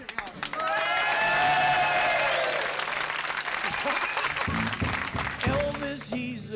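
A concert crowd at a 1975 live show bursts into loud, dense clapping and cheering that swells quickly and carries for several seconds, with voices calling out over it before it tapers.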